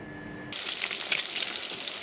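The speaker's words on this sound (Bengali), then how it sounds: "আমি এখন ডিমটা ভেজে নিব তেল দিয়ে দিলাম কড়াইতে" Eggs dropped into hot oil in a wok, a sudden burst of loud, crackling sizzle that starts abruptly after a quieter moment and continues steadily, close by.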